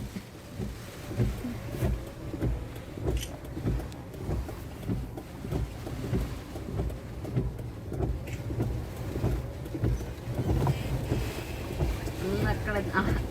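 Strong cyclone winds from Cyclone Nivar sweep over flooded fields and swaying trees near Ongole. The blowing roars in steady, rhythmic gusts with heavy buffeting on the microphone throughout.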